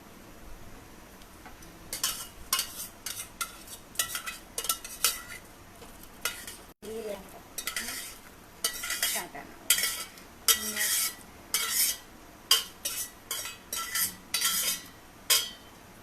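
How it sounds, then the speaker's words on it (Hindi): Lentils, kidney beans and chana dal go into a pot of boiling water in a home kitchen, heard as a run of sharp clinks and scraping stirs in irregular bursts, fairly close, with no talk. "दाल, राजमा और चने की दाल डाल रही हूँ।"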